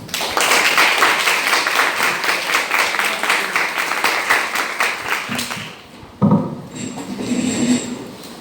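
An audience at a Brazilian constitutional-law event applauds to welcome a guest speaker, a dense steady clapping for about six seconds that fades, followed by a few softer knocks and room noise.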